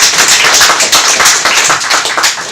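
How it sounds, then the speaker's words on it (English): An audience at a data science talk gives loud, dense applause for a speaker, a continuous close clatter of many hands that holds steady for a couple of seconds with no voices over it. "a big round of applause for Isaac."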